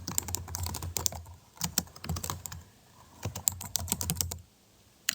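Fast typing on a computer keyboard, close and clear, with bursts of rapid key clicks broken by brief pauses and no talk.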